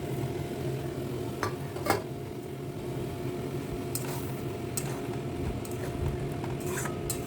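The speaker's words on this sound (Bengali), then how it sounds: "এবার মুইঠাগুলো সব দিয়ে দিচ্ছি এই গ্রেভিটার মধ্যে।" Bhetki fish dumplings go into gravy in a pan, making a steady low simmering bubble with a few soft clinks of utensil against the pan, close and moderately quiet, with no voices.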